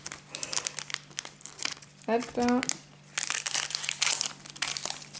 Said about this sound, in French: j'ai jamais réussi à ouvrir comme il faut les displays, les boosters japonais